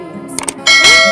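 Bright bell-like notification chime sound effect: a few short soft ticks, then a loud ringing tone with shimmering overtones that sustains to the end, alone and close.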